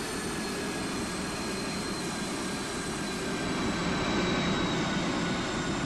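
Airbus A350-1000 jet in the GeoFS flight simulator game, climbing under autopilot after takeoff: a loud, steady engine roar with a broad rushing hiss and a faint high whine, continuous and unchanging throughout.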